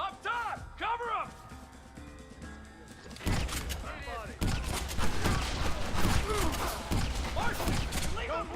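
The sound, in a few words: gunfire in Red Dead Redemption video game shootout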